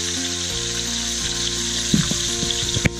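Chicken pieces fry in a single pot, a steady loud sizzle with a low hum and a few clattering knocks as they are turned over.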